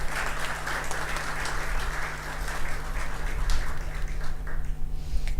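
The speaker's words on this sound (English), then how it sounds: "I think the center deserves a round of applause." At a research conference hall, an audience applauds with dense, sustained clapping that stays fairly even for about five seconds.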